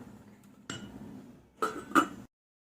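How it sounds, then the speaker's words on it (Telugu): A lid placed on a pot of gongura rice cooking in a hostel kitchen: a dull scrape, then two bright metallic clinks close together, near and fairly loud, followed by silence. "మూత పెట్టేద్దాం."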